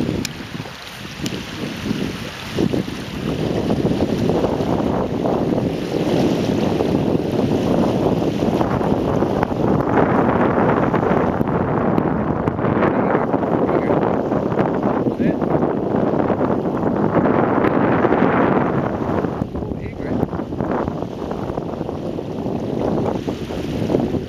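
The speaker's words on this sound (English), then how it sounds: "Nothing like the sound of waves, man." Waves and rushing water heard from a moving boat at sea, a loud, steady wash and roar with wind buffeting the microphone throughout the long stretch.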